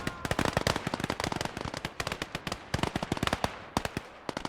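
Rapid bursts of gunfire and grenade blasts crackle through a World War II battle in the game Gates of Hell Ostfront, with loud, dense, irregular sharp bangs filling the scene and no talk.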